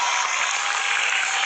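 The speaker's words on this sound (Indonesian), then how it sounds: "tepuk tangan guys buat Andini" Dense, steady applause from a crowd fills the whole short moment, even and fairly loud, with no voices.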